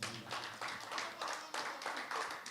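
An audience applauding the musicians at an acoustic concert, a faint, distant wash of clapping in uneven swells lasting a couple of seconds.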